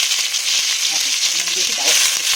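Pieces of rohu fish sizzle in hot oil in a pan, a steady bright hiss broken by small crackles, close up, with faint voice sounds underneath.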